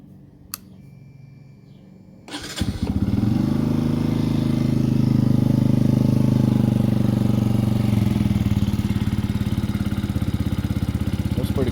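A TNT 135 motorcycle with a full exhaust, only 73 miles on it, cold-starts after a quiet lead-in, its engine catching abruptly then settling into a loud, steady, throaty idle that fills the rest of the clip close by.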